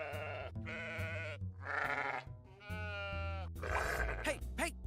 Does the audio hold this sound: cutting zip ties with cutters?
no